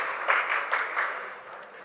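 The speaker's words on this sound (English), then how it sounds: "A big round of applause, please." Applause from a conference audience at a CEO conclave, heard as a thin, fairly quiet patter with a few louder swells, fading over about two seconds.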